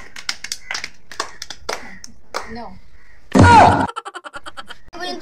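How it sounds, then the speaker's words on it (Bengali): Voices talk briefly, then a short round of hand clapping breaks out, a dense burst of claps followed by a few quicker, fading claps. "এই না সব একটা হাততালি হয়ে যাক"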